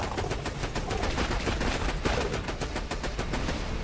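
Rapid automatic gunfire blasts at the Bunker turret in the video game Borderlands 2, a loud, dense, unbroken stream of shots with no pauses.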